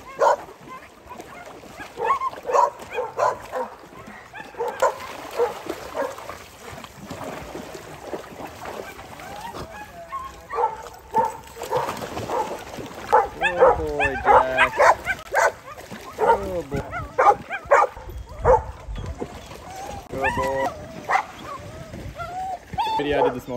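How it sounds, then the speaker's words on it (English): Several dogs bark and yip repeatedly by a pool, near and fairly loud, mixed with whimpers while a person talks and calls to them throughout. "Calling all the dogs."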